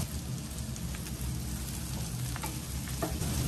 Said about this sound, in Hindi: प्याज को मिलाते हुए हल्का सॉफ्ट होने तक भून लेते हैं